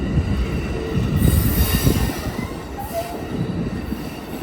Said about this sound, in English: Alright folks, look at that train.